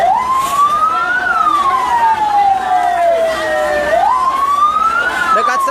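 A mini fire truck's siren wails in long rising and falling sweeps, loud and close at a building fire in a city street, with traffic noise beneath.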